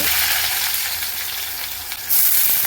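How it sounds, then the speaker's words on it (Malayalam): Mustard seeds, crushed shallots and garlic fry in hot coconut oil, giving a steady, loud, dense sizzle that stays close and brightens near the end. "വെളിച്ചെണ്ണ ചൂടായി കഴിഞ്ഞപ്പോൾ കടുകിട്ട് പൊട്ടിച്ചു ചുമന്നുള്ളിയും വെളുത്തുള്ളിയും ചതച്ചത് ഇട്ടിട്ടുണ്ട്"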